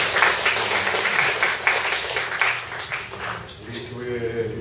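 A church congregation applauds during a Sabbath service, with dense clapping that is strongest at first and thins toward the end as crowd murmur rises beneath it.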